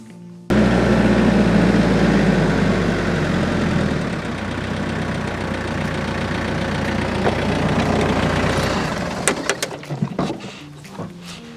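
Tractor engine running steadily and loud during a fence post pull test, a continuous low mechanical drone that holds for several seconds before breaking into a few sharp knocks and clanks near the end.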